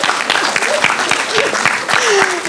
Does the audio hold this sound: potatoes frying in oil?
no